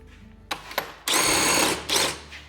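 A power tool tightening the outer wheel assembly of a track, with two short bursts followed by a longer, loud whirring run and a final brief spin, close up.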